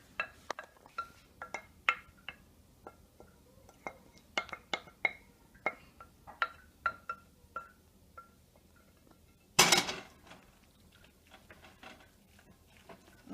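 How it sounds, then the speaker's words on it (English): Egg mixture stirred into a cooled spinach mixture in a bowl for Greek spinach and cheese pie gives light, irregular clinks and taps of a utensil against the bowl, with one louder scraping clatter partway through and no talking. "I am mixing the egg mixture along with the spinach mixture now."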